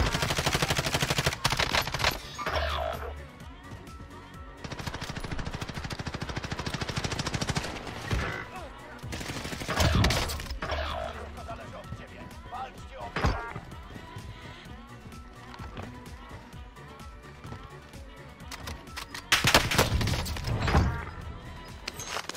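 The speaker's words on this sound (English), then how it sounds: "our player here rocks the Kar98 and never underestimates someone that knows how to use this rifle" Kar98 bolt-action rifle fire in Warzone. Sharp single shots and scattered bursts of gunfire crack through a busy battle mix, with voices talking over the action.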